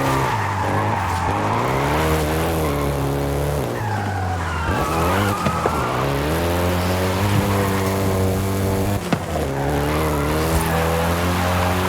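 Volkswagen Golf GTI in Forza Horizon 5, engine revving through rising and falling gear changes with loud sustained tire squeal and skidding, close and continuous.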